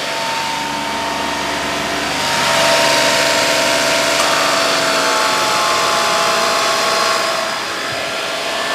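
Car engine held near 3000 RPM with the air-conditioning compressor engaged, a steady, close mechanical drone that swells louder for a couple of seconds midway before settling back to an even hum, with no voices.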